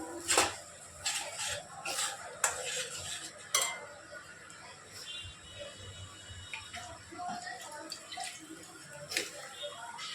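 Palak paneer is stirred briefly in a pan, sharp spoon-on-metal knocks and scrapes coming in short bursts over a quiet, faint background with soft clatter between strokes.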